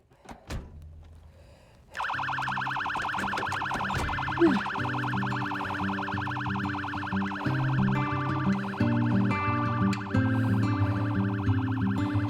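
Ambulance siren in the zombie survival game Project Zomboid, starting after a few soft thumps and then wailing loud and steady with layered tones, close by and continuing throughout.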